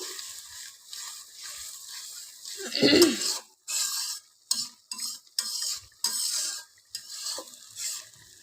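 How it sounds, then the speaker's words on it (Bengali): Spice paste mixed with water is stirred and fried in a pan for a fish and summer vegetable dish. A soft sizzle runs under repeated close scraping strokes that come in short bursts with brief pauses between them. "মশলাটাতে খানিকটা পানি দিয়ে ভালোভাবে কষিয়ে নিচ্ছি"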